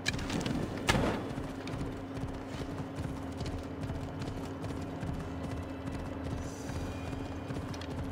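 Rhythmic clip-clop of horse hooves at a steady gallop in Assassin's Creed Odyssey, moderately loud, with a sharp thump near the start and a low ambient hum beneath.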